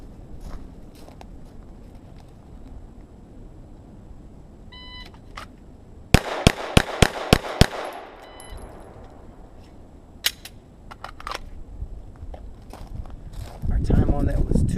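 Six rapid, evenly spaced gunshots crack out in a tight string during a shooting drill, loud and close, with scattered lighter clicks and thumps before and after.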